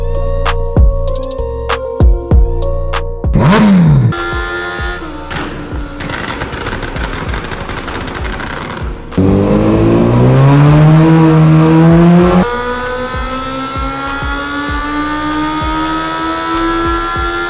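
A superbike pulls hard through third gear on a dyno indoors, its loud, close exhaust rising in pitch in a long sweep, with sharp crackles and pops around it and strong engine harmonics near the end.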